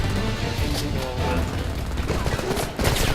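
Dense gunfire from the Homefront video game, continuous loud shooting and crashes mixed with battle noise and shouted voices throughout.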